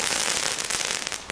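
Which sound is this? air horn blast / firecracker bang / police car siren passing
firecracker bang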